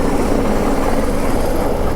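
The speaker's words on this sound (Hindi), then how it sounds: "क्या तेज हवा चल रही है हेलीकॉप्टर से" Helicopter flying overhead along the Kedarnath route in the Kedar valley, a loud continuous rotor roar with heavy wind buffeting, steady and close throughout.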